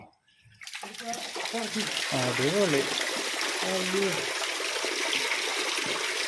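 Steady rushing water pours continuously from a small aquarium waterfall, loud and close, with a person talking over it.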